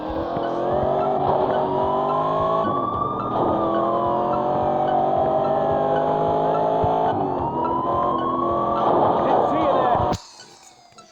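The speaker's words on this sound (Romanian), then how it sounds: "Merg cu toată viteza care o am la mașină." Car from the game Gangstar Vegas driving flat out, its loud engine note rising and falling steadily as it shifts through gears, with a constant close drone before it cuts off near the end; talk is heard over it.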